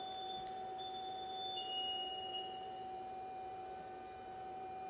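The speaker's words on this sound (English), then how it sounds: "That beep is supposed to stop." A steady, high electronic beep tone from a Lamborghini Murciélago LP640 Roadster drones continuously and faintly over a low background hum.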